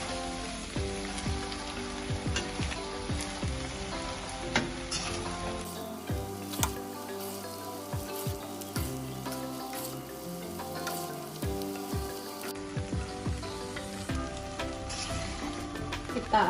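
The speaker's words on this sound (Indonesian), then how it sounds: "Kita aduk rata semua ya guys, semua sudah tercampur dan matang" Mie goreng with eggs sizzles in a hot pan during stir-frying, a steady crackling hiss broken by repeated scraping and clanking strokes of the spatula.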